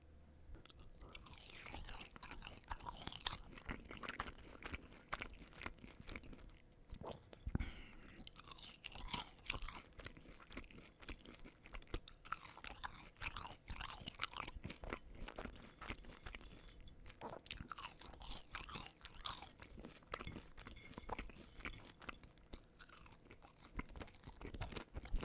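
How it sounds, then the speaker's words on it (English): Close, quiet crunching and chewing of Arby's curly fries and mozzarella sticks with ketchup, continuous bites and mastication throughout, recorded closely and without talk. "eating fries for these videos with ketchup is a chore."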